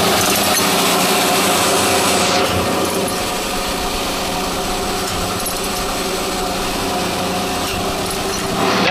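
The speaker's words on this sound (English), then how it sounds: "That is a big old 3-horsepower, 3-phase motor, the original motor that is belt driving the spindle and also driving the automatic feed mechanism." A 3-horsepower, 3-phase motor on an Abrasive Machine Tool Co. Model 3B surface grinder runs steadily, belt-driving the spindle and automatic feed during wet grinding, with a loud continuous whir and a high hiss that eases after the first few seconds.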